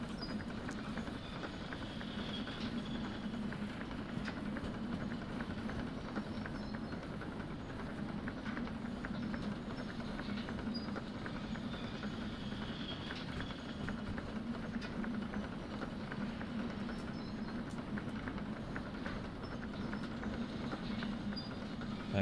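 A train rolls along track in the Derail Valley video game, a steady low rumble with faint rhythmic clatter and hiss, continuous and fairly quiet throughout.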